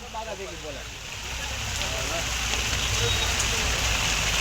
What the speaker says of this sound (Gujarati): વરસાદ કેમ આવે બહુ કઈ ઘટે વિસાવદરમાં ધોઈ નાખ્યું